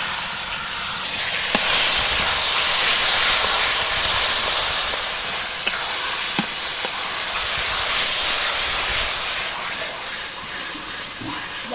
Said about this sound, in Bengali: দেখো এবার কচু শাক দিয়ে দিচ্ছি সেদ্ধ করা কচু শাক